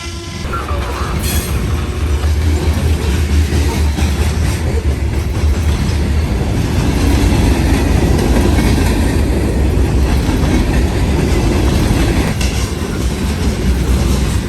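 A freight train led by an SD-70 Ace locomotive with a Union Pacific unit rolls past through London, a loud, steady rumble of wheels and cars with faint clatter that holds the whole time.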